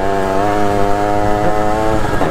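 A small two-stroke moped engine revs steadily and loudly, its buzzy, raspy exhaust note holding fairly constant with slight rises in pitch throughout.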